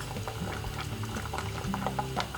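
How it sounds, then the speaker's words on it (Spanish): Water simmering in a pot beneath a bowl of melting chocolate, a steady bubbling and popping at moderate volume throughout, with no talk. "Controlad que el agua no hierva muy fuerte"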